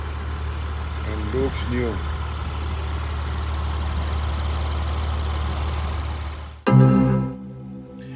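A Porsche Macan engine with 160,000 miles idles after high-pressure fuel pump replacement and intake valve cleaning. The low, even hum runs steadily under a brief spoken remark, then the sound shifts abruptly near the end.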